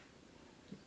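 Faint kitten sounds in the background, a soft purring murmur with one brief mew near the end, over a quiet room hiss.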